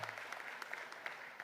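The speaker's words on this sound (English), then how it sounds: "give her a round of applause" At a winter commencement ceremony, a large audience gives a steady round of applause, heard as a faint, distant wash of many hands clapping with a few sharper claps standing out.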